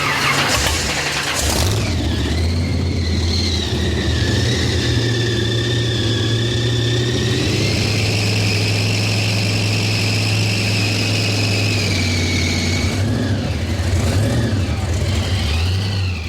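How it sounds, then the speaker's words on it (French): Tuned Cadillac engine from a quarter-mile drag build, running loud and continuous with a deep steady drone, revving up and holding before easing off, then revving again near the end. "Le moteur est parfaitement réglé,"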